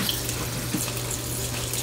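Cold tap water streams steadily from a faucet into a one-gallon Ziploc bag set in a mixing bowl, a close, constant splashing rush with no speech.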